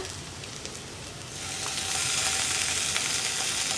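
Spice powders being stirred into a pot of cauliflower masala: a soft hiss that swells into a louder, steady sizzle partway through, with faint scraping of the spoon under it.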